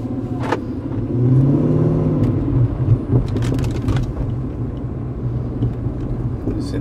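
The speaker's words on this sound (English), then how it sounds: "So I'll start driving here." A car drives along with a steady, loud engine rumble that swells as it accelerates, heard from inside the cabin, with a few sharp clicks and knocks over the drone.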